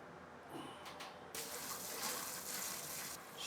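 Liquid, a sugar wash for moonshine, poured through a drawstring brew bag in a home kitchen: a quieter trickle at first, then a steady, fairly loud splashing gush that continues to the end, with no talk.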